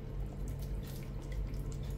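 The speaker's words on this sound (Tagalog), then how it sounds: "Tapos lagyan lang natin ng tubig." Water poured into ground beef cooking with garlic, pepper and mushrooms in a pan: a soft continuous splashing and trickling, fairly quiet and close, with a low kitchen hum underneath and no talking.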